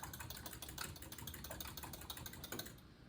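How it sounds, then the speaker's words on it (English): Fork whisking egg and oil into buttermilk in a bowl for pancake batter, a quick, rapid run of light clicking taps against the bowl, close and steady, with no talk. "I'm gonna take my fork and I'm gonna whisk this egg and oil all into my buttermilk"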